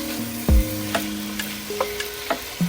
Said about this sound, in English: Just browning the meat.